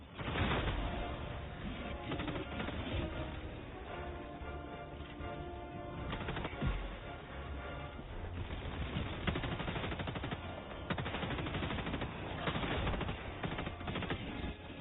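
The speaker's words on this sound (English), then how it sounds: "See how the EMS is shooting right at us?" EMS turret in a video game firing at the player, a dense continuous rattle of gunfire that runs steadily throughout, with busy game effects mixed in and no clear talking.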